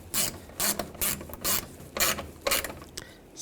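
A ratchet clicks in short bursts while a screw is tightened on a parking sensor bezel of a 2014-2018 GMC Sierra 1500, about seven quick close ratcheting strokes with brief pauses between.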